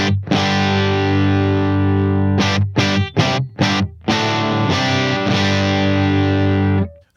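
An electric guitar plays through a Deluxe amplifier fitted with a gain mod, at full gain with no reduction. Thick distorted chords ring loud and sustained, broken by a few short choppy stabs in the middle before a final held chord.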